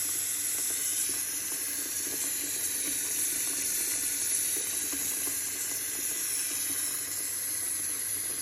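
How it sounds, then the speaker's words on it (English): A kitchen sink fills with a steady stream of running tap water, a constant even rush with hiss, alone and at close range, as it is filled to wash a flat of fresh strawberries. "we've got the sink filling up with the second flat"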